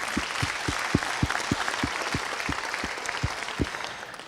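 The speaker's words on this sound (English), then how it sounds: "A round of applause, please." An audience applauds at a talk, a dense patter of clapping with a few sharper single claps standing out at a steady pace, moderately distant and fading slightly at the end.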